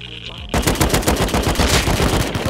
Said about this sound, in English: I just picked up your AK and killed two.